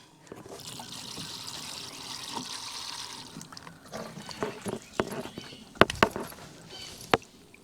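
Water draining through a rain gutter strawberry planter, a steady trickle and splash at first, then irregular drips and gurgles, close and fairly quiet.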